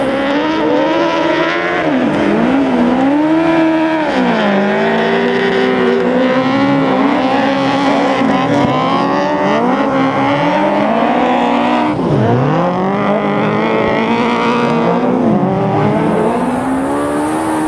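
Race cars in a close on-track battle during a GSeries 2021 race in Andorra, engines revving and whining with rising and falling pitch continuously for the whole stretch, loud and close, with one car overtaking around the outside.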